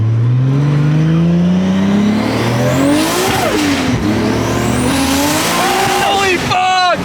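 A Toyota Supra pulling hard through second gear, the engine note climbing loud and close before a gear change, then rising again, with tire and wind noise throughout.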